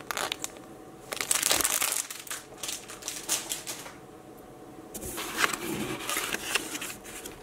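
A plastic bag being handled, giving irregular bursts of crinkling and crushing rustle that come and go in clusters, fairly close, with no one talking.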